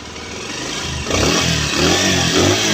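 A Pulsar 150 BS6 motorcycle engine, just fitted with a new timing chain, idling close by and then revving up with a rising steady drone and some light mechanical ticking, no voices.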